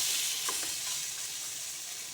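Soybean pancake sizzling steadily in a hot pan as it is flipped, a dense close frying hiss with a few soft stirring taps near the start and no talk.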